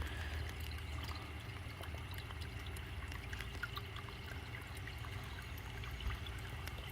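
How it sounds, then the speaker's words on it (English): Grey water from a washing machine drains out into a tire in a steady pouring trickle, continuous and quiet, with a low rumbling undertone and no speech. "And now the washing machine is draining, so it's draining out here into the tire."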